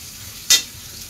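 Pabda fish cooking with Malabar spinach in a pan gives one brief, bright sizzle burst over a steady low background hiss, close by with no talking.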